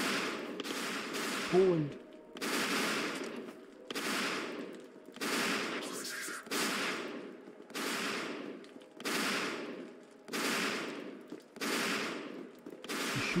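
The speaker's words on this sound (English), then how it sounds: "You're shooting at me." Gunfire in the video game Peripeteia: loud bursts of rapid automatic fire repeat in a steady rhythm, each lasting about a second with short gaps between them. A voice briefly speaks.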